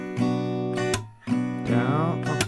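Acoustic guitar strummed close in a down, up, down pattern for a song, bright ringing chords with a short gap before the strokes resume.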